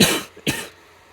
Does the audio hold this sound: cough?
yes